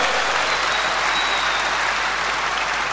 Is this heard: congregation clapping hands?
yes